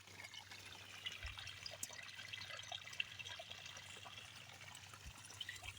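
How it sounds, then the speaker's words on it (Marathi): Irrigation water runs steadily through a wheat field, a faint continuous trickling and flowing wash with no voices and a low hum beneath it. "हे आपलं पाणी चालू आहे"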